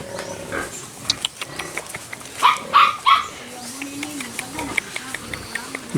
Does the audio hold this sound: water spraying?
no